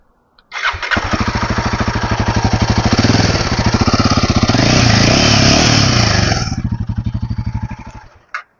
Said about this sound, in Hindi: एग्जॉस्ट साउंड आपको सुना देता हूँ।